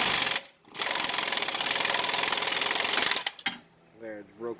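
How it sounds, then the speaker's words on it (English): A press drives a suspension bushing through on a Dodge Charger, Challenger or 300 during an SPC alignment kit install. It makes a loud, rapid mechanical rattle for a few seconds that stops abruptly, and someone briefly talks afterward. "I'm just going to use the actual press to press the bushing the rest of the way through."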